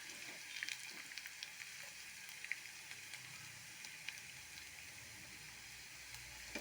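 Green chillies and garlic frying in a pan for tomato chutney, giving a steady, dense sizzle and crackle that runs throughout with small pops, close and unbroken, with no voices.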